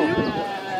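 A goat bleats at a pig and sheep livestock fair in Capoeiras, Pernambuco: a short, wavering, nasal cry close by, mixed with people talking in the background.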